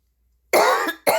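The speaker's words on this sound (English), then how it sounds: "Coughing from smoking." A smoker's harsh cough bursts out close and loud after a stretch of silence, two rough hacking bouts with a short gap between them.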